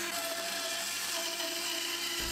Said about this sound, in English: then I cut that out of the bandsaw, making sure to cut on the outside of the line